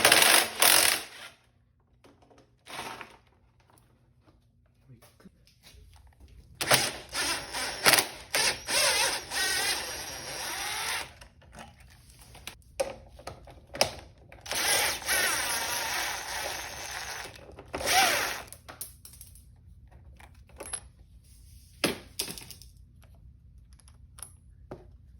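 Tools working on a Suzuki RM85 two-stroke dirt bike to take off the exhaust pipe, with bursts of clicking, rattling and metallic ratcheting separated by quiet pauses, close by and with no talk.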